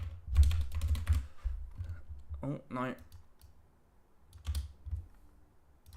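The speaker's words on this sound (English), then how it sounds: "Sorry if the keyboard's really loud as well." Rapid clicking of computer keyboard typing, up close, in several bursts, with a short spoken exclamation partway through.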